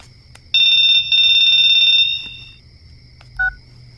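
A telephone rings with a loud, bright electronic trill in two close bursts lasting about a second each, followed by a short beep, in a quiet room with no speech.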